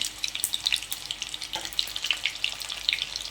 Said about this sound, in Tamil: அளவாக எண்ணெய் வச்சு கொஞ்சம் கொஞ்சமாக பொரிச்சு எடுத்துக்கலாம்.